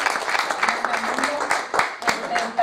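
Church congregation applauding a visiting member during a Christian service, with brief bursts of clapping under a voice that keeps talking.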